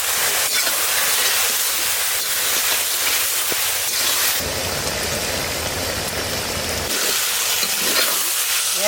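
Food fries in a kadai with sattu, giving a continuous sizzle and scraping from stirring, loud and close, with a brief stretch of harsher hiss midway.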